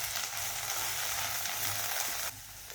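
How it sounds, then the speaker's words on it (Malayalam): Okra (ladies finger) sautéing in a pan over a medium flame for a Kerala-style thoran, giving a steady, close sizzle with a soft stirring scrape, the sound briefly thinning near the end. "ഒരു മീഡിയം ഫ്ലെയിമിൽ വെണ്ടയ്ക്ക നല്ലോണം വഴറ്റിയെടുക്കുക."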